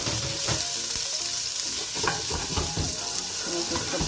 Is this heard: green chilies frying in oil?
yes